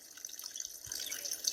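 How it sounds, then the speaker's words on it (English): Spring water running out of a pipe beside a trail campsite, a soft steady trickle and patter, faint and close. "fill up with that spring water coming out of the pipe"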